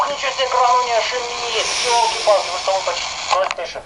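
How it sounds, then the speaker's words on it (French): Hissing white-noise static from an electronic device switched on near an X-ray experiment, a steady broadband rush with warbling radio-like tones and voices running underneath it. "Allumez-le et tout est recouvert de bruit blanc."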